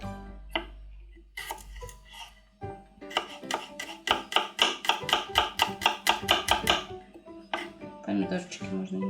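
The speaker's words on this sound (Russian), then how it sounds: "Нарезаем 2 зубчика чеснока" Two garlic cloves being finely chopped with a knife on a board, a quick run of sharp, evenly spaced close-up cuts after a few scattered knocks of kitchen handling, with no talking.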